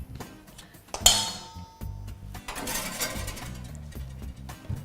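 A metal baking tray of cookies slides into an oven with a sharp clank, followed by softer metallic rattles and clinks from the oven rack.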